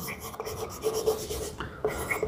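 A teacher writes on a board in a series of short, scratchy marker or chalk strokes, close by and moderately loud, with brief pauses between words.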